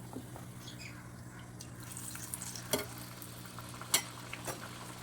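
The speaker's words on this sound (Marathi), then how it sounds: "तेल तापलेलं आहे त्याच्यामध्ये मी आता एक एक सोडते" Puris spiced with red pumpkin fry in hot oil, giving a soft, fairly quiet, continuous sizzle. A couple of brief louder bubbling bursts rise out of it.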